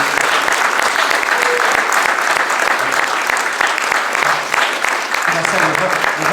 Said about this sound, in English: can we have a big round of applause for Warren David?